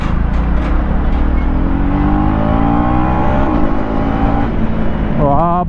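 A 2024 KTM Duke 250 Gen 3 motorcycle accelerates close by, its engine note climbing steadily under wind rush and road noise, with a quick rev change near the end.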